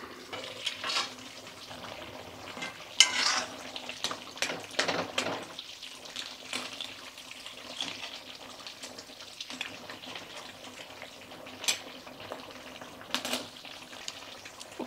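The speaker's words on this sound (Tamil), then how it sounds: "மீன் கொஞ்சமாக வறுத்துக்கலாம் தான். கொஞ்சோண்டு பெருங்காயத்தூள் போட்டு முடிஞ்சது" Fish frying in a pan with a pinch of asafoetida, a steady crackling sizzle with scattered sharper pops and spatters throughout, moderately loud and close, with no talking.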